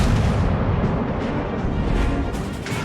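Heavy battleship gunfire in the World of Warships game, a dense continuous rumble of booming shots and explosions with no pauses, loud and close throughout.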